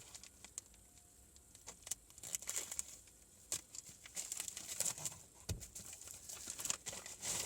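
A plastic parcel package from China is unwrapped up close, with irregular bursts of crinkling, rustling and tearing plastic and no talking.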